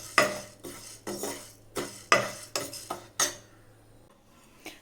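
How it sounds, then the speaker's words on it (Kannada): Moong dal is dry-fried in a pan and stirred with a metal spoon, giving a run of sharp, close scraping clinks about every half second, each with a brief rattling tail, then a quieter stretch to the end. "ಫಸ್ಟು ಹೆಸರುಬೇಳೆನ ಕಲರ್ ಚೇಂಜ್ ಆಗೋರು ಫ್ರೈ ಮಾಡ್ಕೊತಾ ಇದ್ದೀನಿ"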